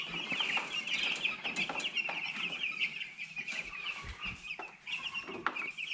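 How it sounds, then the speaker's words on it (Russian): Broiler chicks in a poultry house chirp continuously: a dense chorus of high, overlapping peeps with occasional clucks and thumps from the flock, heard up close. "Вот у нас новые, кстати, цыплята."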